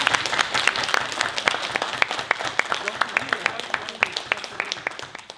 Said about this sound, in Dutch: Een applaus voor de heer Kuijer.